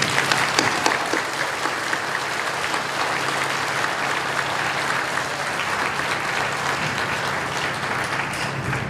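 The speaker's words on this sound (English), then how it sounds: "Please join me in a round of applause thanking everyone in our lives who has helped us achieve this moment." Sustained applause from the audience at a 2021 charter school graduation ceremony, a dense even wash of clapping that holds steady throughout without speech.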